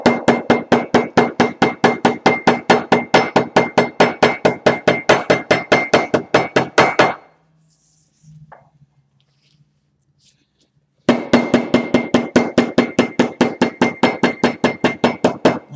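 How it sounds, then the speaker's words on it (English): A smooth-face leatherworker's hammer taps rapidly and evenly on buckstitched leather, dozens of sharp close strikes in steady rhythm, broken by a pause of near-silence before the hammering resumes. "this top row has been hammered down"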